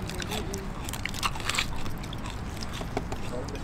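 Someone bites into crispy pata, a deep-fried pork knuckle, with close, continuous crunching and chewing while people talk nearby.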